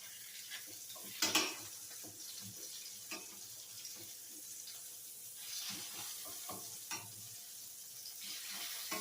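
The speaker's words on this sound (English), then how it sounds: "Just need a couple minutes on each side just to get that nice sear" Pork chops searing in a pan, a quiet sizzle under scattered clinks and scrapes of handling, with a sharper knock early on and no talk.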